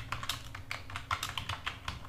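Fingers type on a computer keyboard, a quick run of soft, close key clicks in an uneven rhythm, with no talking.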